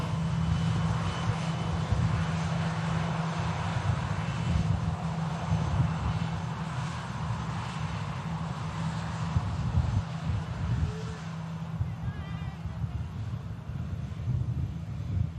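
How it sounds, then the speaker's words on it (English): A Ryanair airliner departing Manchester Airport for Pisa, its jet engines a steady, loud roar throughout, mixed with wind noise on the microphone. "The RyanAir are now lined up for departure to Pisa"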